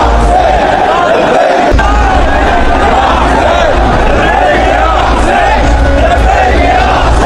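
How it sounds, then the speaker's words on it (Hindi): A dense crowd at a funeral procession near a mosque chants Labbaik ya Hussain slogans, a loud continuous roar of many voices with rhythmic shouting that fills the whole stretch. "लब्बैक या हुसैन की नारेबाजी हो रही है"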